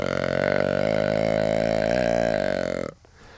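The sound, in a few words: deer call imitating a buck's drawn-out breeding grunt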